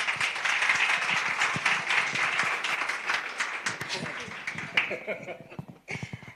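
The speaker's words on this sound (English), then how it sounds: "Let's give a big round of applause." Audience applause at a Nelson Mandela Day commemoration event, dense steady clapping from a crowd that thins and fades toward the end, with a few scattered claps lingering.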